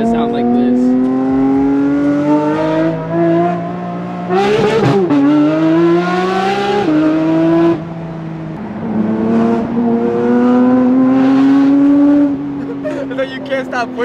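Loud, close engine revving rises and falls repeatedly, with sharp rasping bursts and brief dips, a Porsche GT3 RS exhaust blaring without pause.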